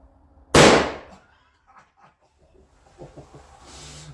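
Ruger No. 1 rifle in .375 H&H fires a single sharp, loud shot at an outdoor range, the blast decaying quickly into near silence, with faint handling noises and murmurs afterward.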